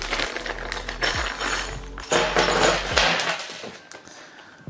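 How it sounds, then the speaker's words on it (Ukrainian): Small metal bolts clink and clatter in a few bright bursts as they are tipped out of a box, with quieter rattling between them. "З коробки ми достаємо всі болти."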